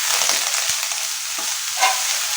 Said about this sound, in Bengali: পেঁয়াজটাকে একটু ভালো করে লাল করে ফ্রাই করে নিতে হবে